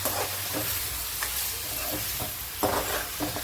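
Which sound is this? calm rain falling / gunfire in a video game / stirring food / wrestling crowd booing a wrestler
stirring food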